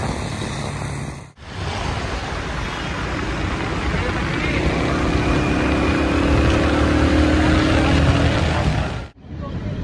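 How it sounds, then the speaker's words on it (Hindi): A Kawasaki motorcycle engine running on Karachi roads, a steady, fairly loud drone that starts abruptly, holds for about eight seconds with a slight rise, then cuts off sharply. "वो बाइक स्टार्ट हो गया कावासाकी हमारा"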